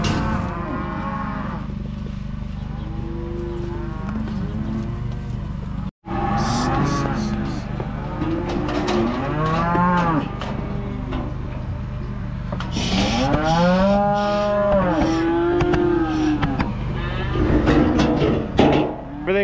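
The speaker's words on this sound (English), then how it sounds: "These calves are about the perfect size for this alleyway and the hydraulic chute." Ranch calves in an alleyway by a hydraulic chute moo repeatedly, several overlapping calls from close and farther off, with a low engine rumbling underneath throughout.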